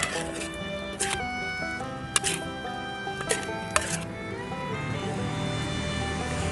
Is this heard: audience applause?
no